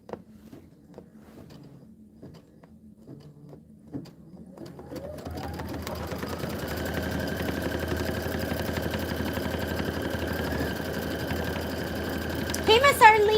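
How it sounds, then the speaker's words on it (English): Sewing machine stitching a quilt block on background fabric starts after a few seconds of quiet tapping and faint talk, rising into a steady loud whirring hum with a sustained tone, then a burst of sharp clattering near the end. "let's go ahead and stitch"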